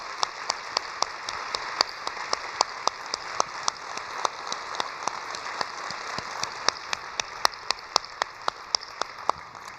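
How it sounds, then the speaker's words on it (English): A leadership speaker series audience applauds, dense and sustained clapping from a large crowd with crisp individual claps popping out over a rain-like hiss, no speech over it. "Please stand and give them a round of applause."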